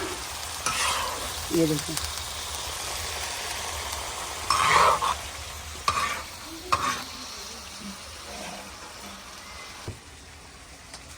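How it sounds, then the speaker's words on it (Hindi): Chicken liver (kaleji) fries on a tawa with a steady, moderate sizzle and several bursts of stirring scrapes; someone briefly speaks over it. "ये बन रही है तवा फ्राई कलेजी"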